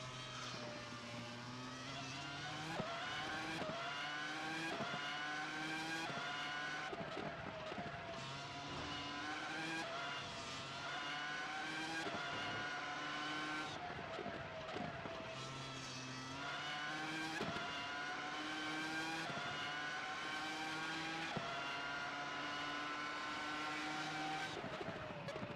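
Formula race car engines scream through the S's section of a track in a racing video game, high revving notes rising and dropping repeatedly with gear changes, loud and close throughout.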